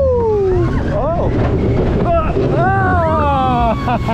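A Vekoma family roller coaster rolling down a drop at a theme park near Rome, loud wind rush over the track rumble, with riders whooping and shouting over it.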